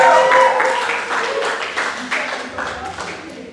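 Applause from a group of students in a classroom, a burst of quick overlapping claps that gradually thins out, with voices mixed in.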